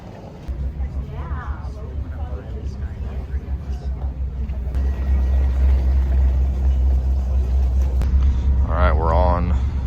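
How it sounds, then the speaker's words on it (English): Cars roll aboard a ferry on the Isle of Mull in Scotland, a steady low engine rumble that grows louder and continues under nearby voices talking. "They're loading up the cars now."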